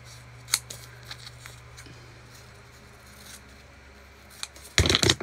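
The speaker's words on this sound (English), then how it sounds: "We got to cut some off" Scissors snip through canvas bag material at a sewing table, a few quiet isolated cuts followed by a louder, close burst of rapid snipping at the end, with no talking.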